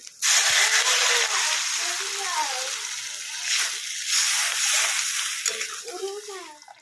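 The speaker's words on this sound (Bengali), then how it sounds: "এবার আমি দিয়ে দিচ্ছি জল" Water is poured into a pot of hilsa fish curry with potatoes, taro and eggplant, making a loud rushing splash and slosh that runs for several seconds while a voice talks over it.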